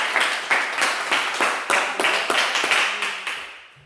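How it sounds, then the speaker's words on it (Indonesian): Students in an Indonesian classroom applaud a group presentation: rhythmic, unison hand claps in a steady beat, close and loud, fading slightly at the end. "Oke, beri tepuk tangan lagi untuk kelompok 3."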